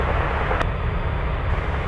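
A large jet airliner, likely a Boeing 747 Dreamlifter, takes off from runway 33 at Anchorage, its engines a steady, loud broadband roar that holds throughout with no voices.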